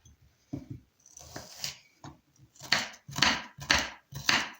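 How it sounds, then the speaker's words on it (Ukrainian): Sharp knife strokes dicing an onion on a cutting board, a few scattered at first, then four loud, evenly spaced chops close up. "нарізати маленькими кубиками цибульку"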